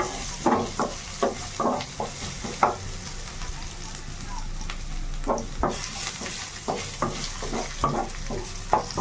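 Onions fry with a steady sizzle in a pan while a spoon stirs them in repeated scraping bursts, a close and moderately loud sound with no one speaking.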